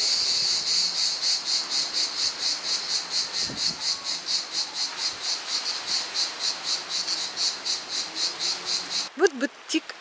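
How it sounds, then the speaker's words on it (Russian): Cicadas buzz in steady pulsing waves at a Bulgarian Riviera resort, loud and continuous, ending with a short chirp of a bird at the close. "Послушаем цикад."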